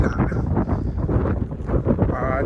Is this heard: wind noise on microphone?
yes